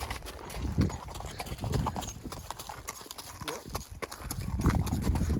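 A young colt being ridden in training clip-clops along, its hooves striking in a quick, uneven rhythm of sharp close knocks, fairly quiet, with faint rain-damp outdoor ambience.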